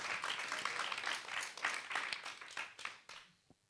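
A small audience at a cultural quiz evening briefly claps for a correct answer, with a short burst of applause that tapers off within a few seconds.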